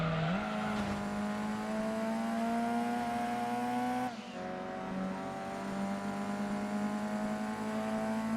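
Race cars in the Gran Turismo 2 video game, a steady high engine drone holding pitch with a brief shift dip midway, then droning on, loud and continuous.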